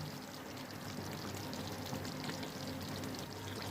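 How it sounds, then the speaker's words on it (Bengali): Water poured into a pan of sautéed carrots and capsicum while cooking sabudana khichuri, a steady broadband rush with faint sizzle beneath, continuous and close for the whole stretch. "এবার আমরা দিয়ে দিচ্ছি জল। জল দিয়ে দিলাম।"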